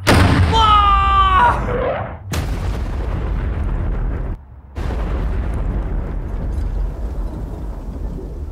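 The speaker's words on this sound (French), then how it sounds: "Avec nos derniers litres d'essence, l'équipe pyrotechnique nous a refait une bombe." A pyrotechnic bomb explodes outdoors in a loud, sustained roar, with a rising whistling tone at the start, then heavy rumbling blasts broken by brief sharp cutoffs.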